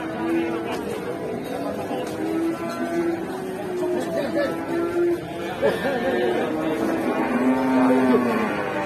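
Cattle moo repeatedly, low and drawn out, over the din of a crowded livestock market where a nervous bull is being led, with chatter and general hubbub of voices all around.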